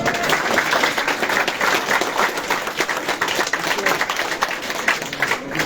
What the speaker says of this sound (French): Qu'on les applaudisse là